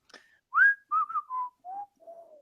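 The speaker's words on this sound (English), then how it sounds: "where did that whistle come from?" A person whistles a short descending tune of five or six clear notes, each held briefly with small gaps, close and fairly loud, no talking.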